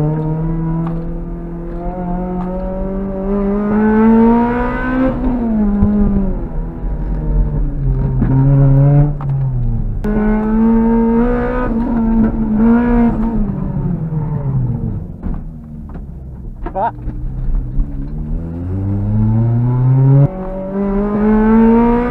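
A Toyota MR2 Spyder with a 2ZZ engine on a race run, its engine revving loud and close through repeated rising and falling sweeps as it climbs through gears and lifts between them, with no talking.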